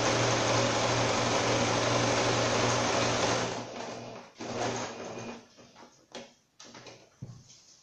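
A sewing machine stitches a fabric placemat with a loud, steady mechanical whir, then stops. Scattered handling knocks and rustles follow as the needle is lowered and the work is turned.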